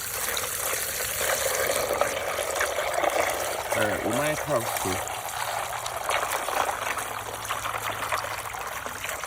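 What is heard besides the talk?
water poured into a container with ice churning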